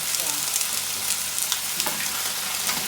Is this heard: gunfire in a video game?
no